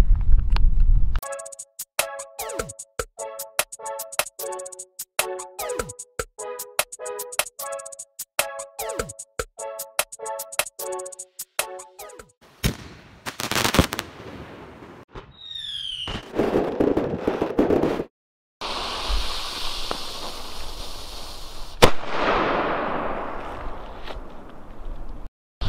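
Xplode Donnerschlag cubic firecrackers, German cannon-crackers, ignited outdoors: a sputtering fuse with rapid crackling bursts, then loud sharp explosive bangs with hissing and rumbling between them.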